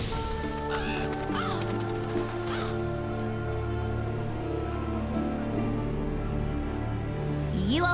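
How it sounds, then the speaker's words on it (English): Black scavenger birds cawing in Monster Hunter World: Iceborne, several harsh caws in the first few seconds over a steady game soundscape, then a lingering ambient drone with one last call at the end. "Seems the black birds are the culprits."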